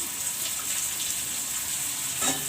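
Onion, green chilli paste and chopped tomato fry in a pan in a home kitchen, giving a steady, close hiss of sizzling oil with a brief stirring scrape near the end.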